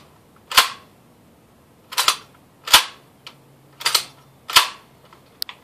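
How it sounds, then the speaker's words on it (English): An airsoft gun without gas blowback has its bolt racked repeatedly, giving five or six sharp, crisp metallic clacks spaced about a second apart, close and loud against a quiet background with no talk. "This has the nicest bolt I've ever heard on a non-gas blowback gun."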